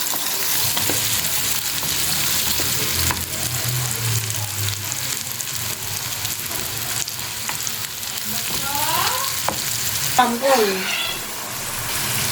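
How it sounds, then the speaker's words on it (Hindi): A spoon works quickly through a frying pan of shami kebab bharta, a loud, steady sizzle with faint scraping strokes throughout and brief voice-like tones near the end. "तो मैं ये फटाफट चम्मच चलाए जाना है"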